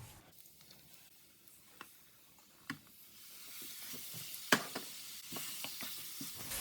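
Marinated chicken thigh pieces fry in a hot wok with shredded ginger, a soft, steady sizzle broken by scattered clicks and scrapes of stirring that grow busier toward the end.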